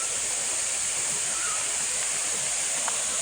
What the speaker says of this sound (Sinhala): මේක තමයි පළවෙනි ඇල්ල.